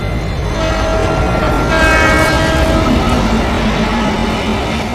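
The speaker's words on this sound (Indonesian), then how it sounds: "Saat Jack sedang mencari Natasha, tiba-tiba saja ada kereta api sehingga dirinya hampir tertabrak." A film train rushes past close by, a loud, continuous rumble of wheels and cars with a sustained horn blaring through the middle, nearly hitting someone on foot.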